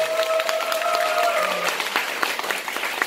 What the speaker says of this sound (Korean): 여러분 박수 한번 치고 시작할까요?